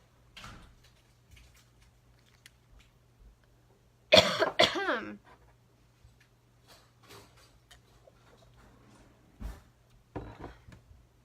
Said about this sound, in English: I have a cough, so I am going to take care of that really quickly.